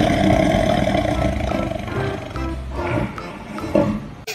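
Tiger roaring in a hunting video game set by a river, a deep drawn-out growl that fills most of the clip, with a few softer rumbles and a brief louder accent near the end.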